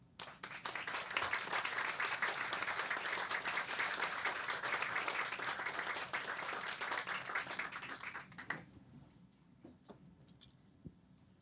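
Audience at a book talk applauding to welcome two speakers, dense sustained clapping for about eight seconds that ends abruptly, leaving a few scattered claps and room noise.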